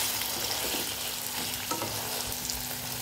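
Chopped cabbage, capsicum and tomato cooking in a pan, a steady moderate sizzle with occasional spatula stirs and scrapes, close by and without speech.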